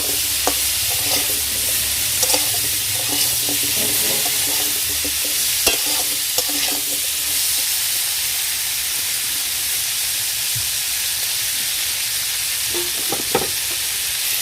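Prawns with salt and spices sautéed in a pan for a tamarind prawn curry, a loud continuous sizzle with repeated scraping stirs and spatula knocks, no talk.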